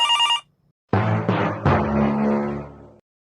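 A telephone rings briefly, then falls silent before a few resonant knocking or ringing tones trail off.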